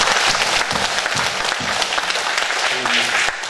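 A congregation at a nationwide pastors' couples healing revival service breaks into dense, continuous clapping that stays strong and even throughout, with faint voices mixed in.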